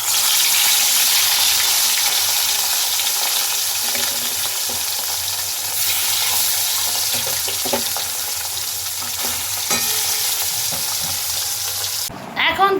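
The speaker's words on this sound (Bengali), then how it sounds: "এটাকে এখন নুন হলুদ মাখিয়ে নিয়েছি, এটাকে ভেজে নেবো এখন" Rohu fish coated in salt and turmeric frying in hot oil, a loud steady sizzle throughout with faint scraping, ending in a brief clatter.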